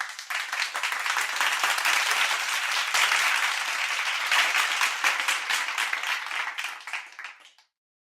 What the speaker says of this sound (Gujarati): આખો વર્ગ તાળીઓ સાથે જોડાયો.